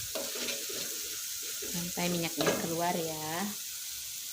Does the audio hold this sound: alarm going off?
no